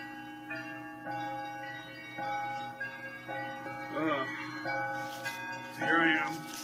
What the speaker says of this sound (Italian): campane in Russia.